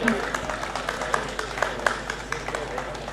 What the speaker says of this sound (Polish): Wielkie brawa dla naszych wyróżnionych.